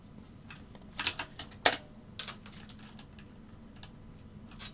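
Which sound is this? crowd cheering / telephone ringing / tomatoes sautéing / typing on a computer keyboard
typing on a computer keyboard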